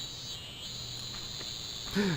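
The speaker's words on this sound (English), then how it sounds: "Oh boy, cicadas and crows." Cicadas drone steadily in the Tenchu 2 stealth game, a faint, thin insect buzz that lasts throughout, while a single crow caw comes in briefly near the end.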